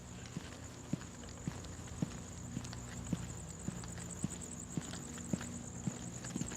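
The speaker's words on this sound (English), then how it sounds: "they could probably hear my footsteps, walking by" Footsteps walking through a quiet residential neighborhood, with evenly spaced, crisp steps about every half second. A thin, steady high-pitched hum stays faintly in the background.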